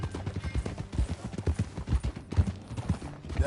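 Horse hooves clip-clop in a steady walking rhythm in the video game Red Dead Redemption, the hoofbeats fairly close but quiet and playing alone throughout.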